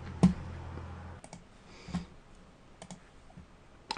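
A computer keyboard is typed on with a few sparse, separate clicks and key taps during software setup, close and quiet, with long pauses between strokes.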